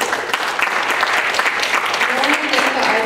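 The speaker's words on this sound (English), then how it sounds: "Let's give them a round of applause." An audience at a community arts event claps warmly and continuously for panelists, with voices talking over the crowd's applause throughout.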